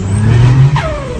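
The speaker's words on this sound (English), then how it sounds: "I just wanted to keep that, you know, straight six, turbocharged" A turbocharged straight-six engine revs in a sustained, loud, close-up run with a low steady drone and a rising whine near the end, no talking over it.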